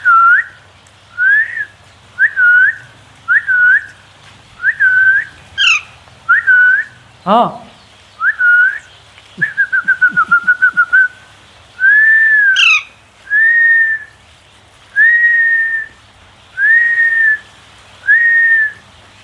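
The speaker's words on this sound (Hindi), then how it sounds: "बस हल्की सी सीटी बजाई थी" Soft, repeated short whistles calling a pet bird during a small-scale poultry setup, clear and close in an evenly spaced series of rising notes, with a few brief sharper chirps and a short word of speech partway through.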